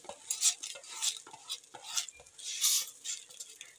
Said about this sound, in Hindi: इसके बाद इसके अंदर मैं मूंग शामिल कर रही हूँ।